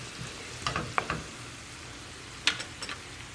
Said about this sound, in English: Let it simmer a little bit so that the alcohol burns off.